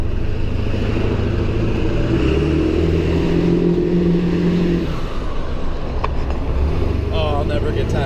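A Ford Powerstroke diesel truck accelerates hard beneath a small overpass, its loud engine roar and road rumble swelling and echoing, then dropping away as it passes through, heard from inside the cab.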